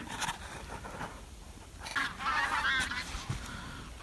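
Geese honk repeatedly overhead at a middling distance, the calls clustering into a noisy flurry midway through over a steady outdoor background.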